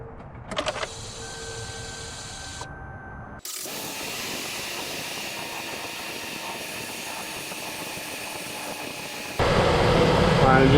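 A 2004 Chevy Suburban engine cranks and catches, then settles into a steady idle in a shop, growing louder near the end, with a brief voice at the start.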